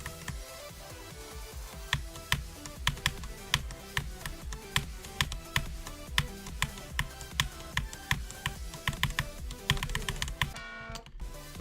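Rapid, crisp mouse clicks fire in an irregular but steady stream during play of the rhythm game Sonic Wave, over loud electronic music, the clicking close and prominent throughout.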